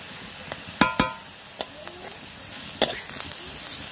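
Onion and green chilli sizzling in a pan as turmeric powder goes in, a soft, steady fry broken by a few sharp clinks of a utensil against the pan.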